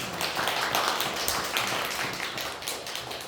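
Church congregation clapping together in welcome, a dense, even burst of applause filling the room from start to finish with no speech.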